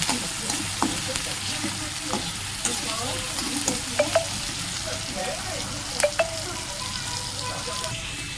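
Onion and tomato sautéing in oil in a home kitchen, a steady soft sizzle with a spoon scraping and stirring through the pan, occasional light clinks against the metal, all fairly quiet and continuous.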